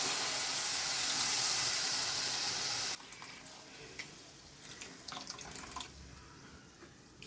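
Spiced liquid of red chilli and coriander powder dissolved in water, poured steadily into a cooking pan for Tamil sundakkai vathal kuzhambu; a loud, continuous pour lasting about three seconds, then stopping, followed by quieter kitchen clatter.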